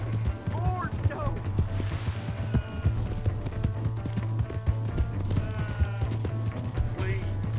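Horse hooves clip-clop steadily in Red Dead Redemption 2, a continuous running gait under a low engine-like hum, with brief whinny-like calls and shouting voices over the top.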